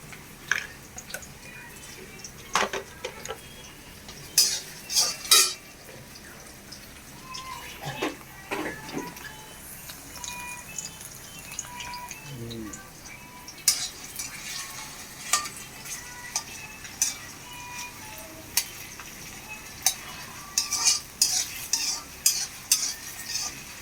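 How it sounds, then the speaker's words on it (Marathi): Cumin seeds roast in hot oil with a constant fine crackle. A spoon stirs and scrapes the pan in irregular bursts for the whole stretch, and no one speaks. "असं व्यवस्थितपणे तेलामध्ये मस्तपैकी भाजून घ्यायचा"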